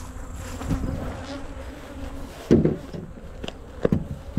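Agitated honeybees buzz around an Apimaye hive while it is being treated, a continuous close insect drone with a few sharper fly-by swells and brief knocks, and no talking.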